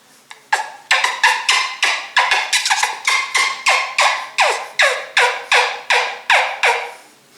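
A large turkey wingbone call yelps in a long, close sequence of loud, raspy notes, some bunched in quick clusters and then settling into an even, rhythmic run.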